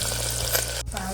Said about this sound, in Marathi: कांदा असं छान परतून घेतला